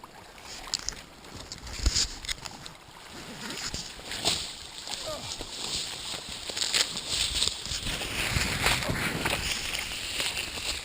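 Someone wades through a shallow rocky creek on a sunny day, with loud close sloshing and splashing steps in an uneven rhythm over constant rushing water.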